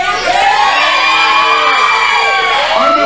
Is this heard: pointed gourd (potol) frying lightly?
no